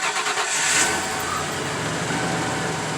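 1993 Dutchman motorhome engine starting, with a brief cranking burst that catches into a steady, fairly loud running idle close by.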